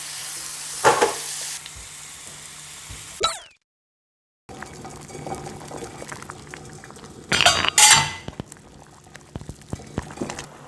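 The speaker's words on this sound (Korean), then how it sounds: "살짝만 볶아줘야 됩니다." Mushrooms being lightly stir-fried in a pan: gentle sizzling broken by utensil clacks against the pan, a short silent gap, then louder scraping and clattering before it settles.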